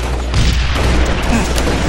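A loud, deep rocket explosion booms in Halo Reach multiplayer, its rumbling blast and debris rolling on heavily through the short stretch.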